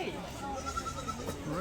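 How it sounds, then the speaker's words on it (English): A goat bleats on a small Portugal farm, a short wavering cry heard amid close conversation, near and moderately loud. "I hear a goat."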